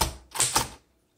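A few sharp mechanical clacks from a 1926 Underwood Four Bank typewriter, two strong strikes close together and then a quick fade to quiet.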